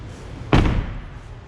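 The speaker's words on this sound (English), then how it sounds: "When I shut the door, it rocks the truck because the doors are so heavy" The heavy door of an armored 2021 Cadillac Escalade slams shut once, a single loud, deep close-range thud that rings briefly and fades.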